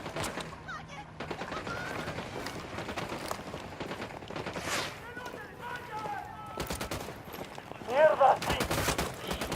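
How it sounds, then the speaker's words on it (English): Gunfire in the Ghost Recon Wildlands video game, repeated shots and bursts of a firefight at mid distance, with a louder burst near the end and a voice briefly talking under the shooting. "Opening fire."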